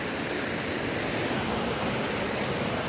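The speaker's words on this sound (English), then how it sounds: "the sound of the water" Argyle Waterfalls in Tobago roars as a steady, dense wash of falling water, loud and unbroken, with no voices.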